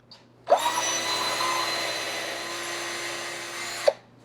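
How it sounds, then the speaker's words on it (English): A power drill bores a hole for a wooden hanging rail: a single continuous high whirring grind of about three and a half seconds, close and steady, starting and stopping abruptly with a click at each end. "So we finished drilling our 3 holes."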